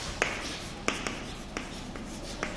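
Chalk or marker writing a heading on a classroom board, a handful of short scratchy taps and strokes spaced irregularly, close with quiet room tone.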